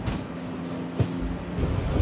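Tirupati–Villupuram Express running near Pakala Junction: a steady low rumble of the moving train with a sharp knock near the middle, continuous and fairly quiet, no talk.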